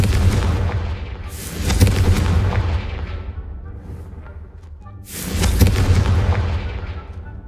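Two loud fiery blasts from the Confringo spell in Hogwarts Legacy, each a booming burst around one and five seconds that rumbles and decays over a couple of seconds, with low game ambience between.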